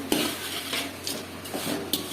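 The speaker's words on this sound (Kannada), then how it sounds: "ಅವಲಕ್ಕಿ ಒಗ್ಗರಣೆ ಮಾಡ್ತಾ ಇದ್ದಾರೆ" Avalakki (poha) tempering being stirred in a pan, with several spaced scrapes and clinks of a metal spoon over a light sizzle, close by.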